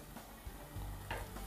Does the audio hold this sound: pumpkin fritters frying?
yes